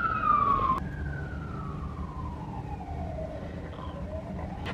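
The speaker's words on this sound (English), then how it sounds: "Let me just wait for this siren to go." An emergency vehicle siren passes outdoors, a long wailing tone that sweeps downward as it moves away, fading under steady traffic rumble.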